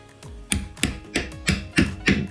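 Six sharp, evenly spaced hammer taps on a pointed tool pressed against a brittle IKEA cabinet panel, close and crisp with short decays between strikes.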